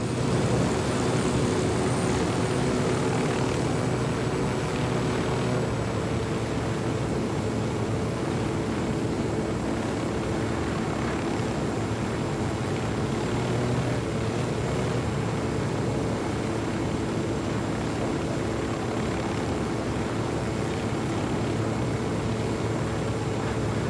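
Helicopters closing in during a Ghost Recon Wildlands mission, a steady droning rotor and engine roar that fills the scene at a constant loud level for the whole stretch, with no voices over it.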